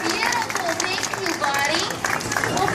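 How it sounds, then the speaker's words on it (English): Audience applause and cheering for Nicholas the dolphin at a Clearwater Marine Aquarium show, a steady wash of clapping and crowd noise filling the whole stretch with loud babble mixed in. "give him a nice big round of applause"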